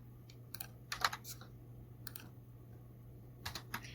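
Computer keyboard typing in short clustered bursts of crisp key clicks, close but fairly quiet, over a low steady hum with pauses between bursts.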